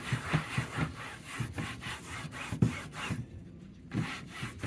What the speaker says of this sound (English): Let's use a little simple green and a warm washcloth.